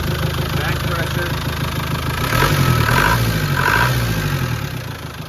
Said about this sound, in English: Very smooth revving engine.